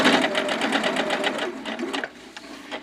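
A sewing machine runs close and loud, topstitching at a 4.0 stitch length with a rapid, even rhythm of stitches that slows and stops near the end.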